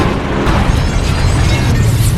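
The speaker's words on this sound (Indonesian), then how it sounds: "sampai terjadi sebuah ledakan besar karena menabrak gardu listrik" A loud, sustained explosion in a film as the Terminator crashes into an electrical substation, a dense continuous roar filling the whole soundscape.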